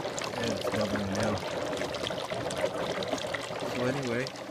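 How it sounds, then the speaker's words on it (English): Water bubbling inside the bubbler of a homemade HHO furnace, a steady close gurgle and trickle running under a voice as he talks. "it's bubbling now"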